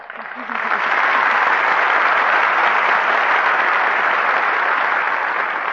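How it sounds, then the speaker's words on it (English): Actors in a radio broadcast studio clap together, and the applause swells within a second into steady, dense clapping that holds loud to the end. "The actors are applauding each other."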